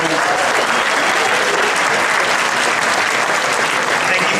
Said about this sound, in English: Let's hear a big round of applause.